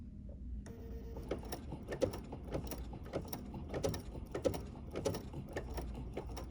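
A BERNINA 880 PLUS sewing machine stitches a bling bracelet, its needle mechanism tapping in a steady, fast rhythm after a brief pause at the start, close and continuous with no talk.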